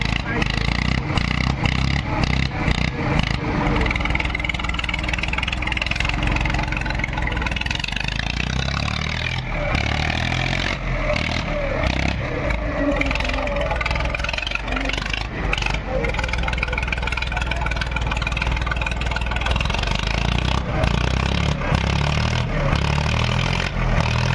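A tractor engine idling with a steady low chug that swells as it revs, nearby, under people talking.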